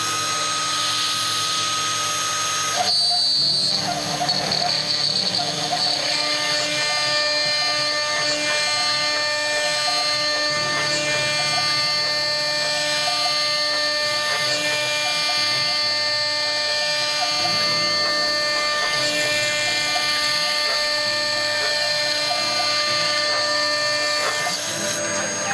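A CNC router cuts about 25 mm deep into a workpiece, giving a steady, loud high-pitched whine with tonal harmonics and a grinding undertone that runs throughout, shifting slightly in load as the bit moves.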